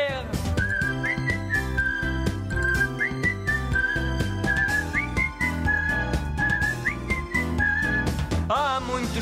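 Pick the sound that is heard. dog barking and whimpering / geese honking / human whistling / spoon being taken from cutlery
human whistling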